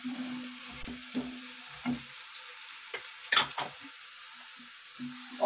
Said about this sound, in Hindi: ये हमारा लहसुन भुन चुका है